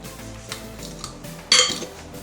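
Vegan peach cobbler batter being mixed in a bowl, soft scraping and light spoon taps, then a sharper clink of utensil against the bowl near the end, quiet and close.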